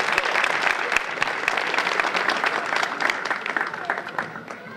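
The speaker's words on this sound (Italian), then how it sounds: "Un applauso a Filippo Viola." An audience applauds at an Italian poetry and folklore event in Moschetta, with dense, lively clapping that gradually thins out and softens toward the end.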